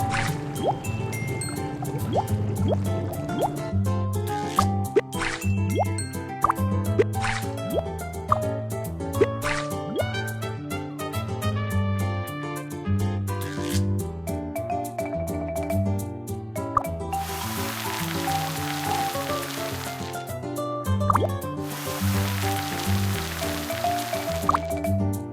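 Cartoonish liquid drips, plops and bubbly gurgles from cooking fish soup in the Baby Panda children's game, repeating over bouncy game music with occasional bursts of hiss.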